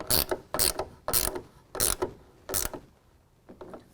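A ratcheting tool tightening a clamp on the rail of an Access roll-up tonneau cover on a pickup bed, five crisp bursts of rapid clicks in a steady rhythm, then two fainter ones, close and alone.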